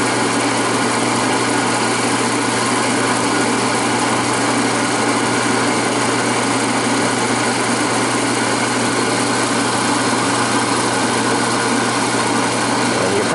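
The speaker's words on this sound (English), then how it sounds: "you probably even hear that motor change tune when I take the load off of it." An old Fairbanks Morse light plant generator engine runs steadily nearby, a loud, continuous buzzing drone with rapid firing texture that holds an even pitch throughout, with no voices.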